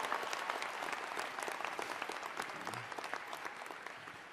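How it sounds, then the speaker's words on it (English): Steady applause from a crowd at a graduation convocation, dense clapping that holds for several seconds and tapers slightly toward the end. "So give yourself a big round of applause."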